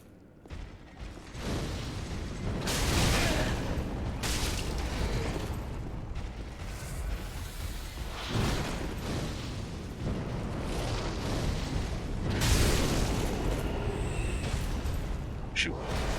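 Pyromancy fire spells burst repeatedly in Dark Souls 3, heavy booming blasts rolling over a dense, continuous din with sharp flares at irregular intervals.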